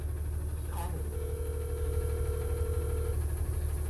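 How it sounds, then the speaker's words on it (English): A building intercom system dialing a tenant, giving a steady electronic tone lasting about two seconds over a constant low hum, with no voices. "This is the intercom system. Obviously not working because it's dialing,"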